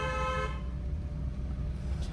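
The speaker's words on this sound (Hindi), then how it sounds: "लॉन्ग हॉर्न प्रेस करिए।" A car horn sounds a long press for about half a second in city traffic, then gives way to the steady rumble of engine and road noise.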